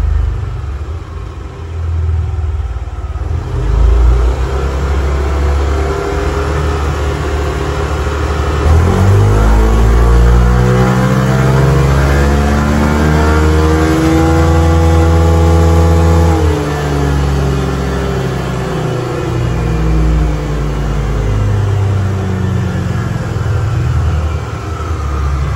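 A car engine runs on a Sportdevice dynamometer in a mid-RPM test, a loud continuous drone that rises in pitch, holds, then eases back down with a steady rumble underneath.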